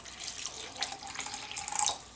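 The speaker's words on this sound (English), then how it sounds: "in each cup I'm going to pour a little water" Water poured into cups set out for a flower colouring experiment, a soft trickling splash with brief bright droplet sounds, growing a bit louder toward the end, close and quiet with no talk.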